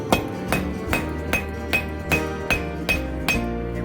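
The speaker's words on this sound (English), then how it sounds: "I'm moving it on the horn and striking straight into the horn, and that's going to move metal really fast and draw that out" A hammer strikes a metal fire poker on the horn of an anvil in a steady rhythm, about ten bright ringing clinks roughly every half second, close and loud with no talk.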